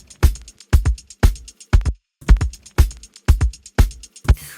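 A vinyl-sampled drum loop plays alone and up close: punchy kicks and snappy hits with ticking upper percussion, cycling in a steady repeating groove over several bars.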